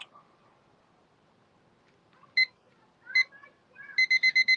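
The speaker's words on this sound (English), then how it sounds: "I'm going to set my timers" Kitchen timers chirp with sparse single electronic beeps, then a quick regular run of high, clear beeps near the end, all fairly close in an otherwise quiet room.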